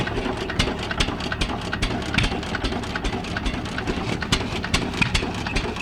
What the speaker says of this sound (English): And I have a buzzsaw on it.